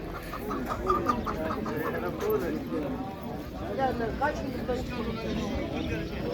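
At the Eskişehir bird market, where chickens and pigeons are sold, hens cluck and fowl call nearby amid a busy crowd, with voices talking over the birds throughout.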